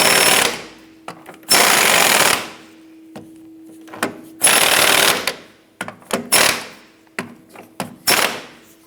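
Skid plate bolts tightened on a 1997-2006 Jeep Wrangler, loud bursts of an impact or ratchet tool rattling in long and short runs, separated by quiet gaps, close and harsh.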